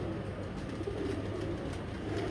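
Pigeons coo softly in a steady, continuous murmur against a constant outdoor hum, with no distinct individual calls standing out.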